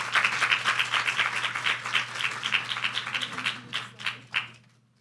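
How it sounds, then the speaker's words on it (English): Applause from an audience as a university debate team enters, dense rapid clapping that thins out and fades to silence over about five seconds. "give them a round of applause as they enter"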